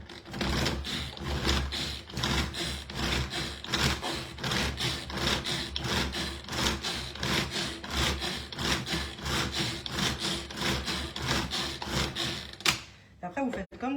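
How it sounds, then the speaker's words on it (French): Ferrero Rocher chocolates being chopped with a knife on a board, a steady fast run of crunchy thuds and scrapes repeating for the whole stretch, with a voice talking underneath. "je vais juste hacher"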